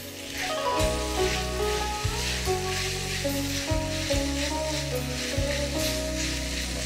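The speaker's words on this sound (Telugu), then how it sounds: "సో ఒక 10 నిమిషాల వరకు మనం దీన్ని ఫ్రై చేసేసుకుంటాం" A mapo tofu mixture with chunky-cut vegetables fries in a pan, making a loud, continuous sizzle broken by a few scrapes and stirring bumps, with soft background music underneath.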